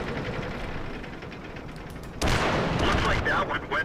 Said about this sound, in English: He's firing on somebody.